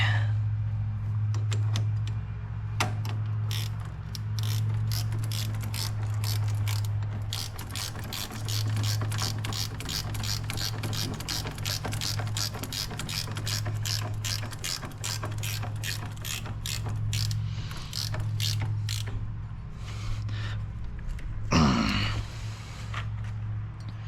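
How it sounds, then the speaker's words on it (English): A ratchet wrench tightens a 15 mm bolt during Can-Am vehicle service, a rapid run of sharp clicks repeating over an underlying low electrical hum, close up with no talking. "now I can take my 15 mil and just tighten down on that thing"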